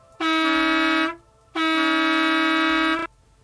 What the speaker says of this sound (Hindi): तभी बस का हॉर्न सुनाई दिया।